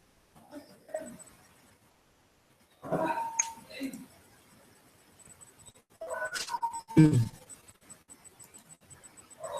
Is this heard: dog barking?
yes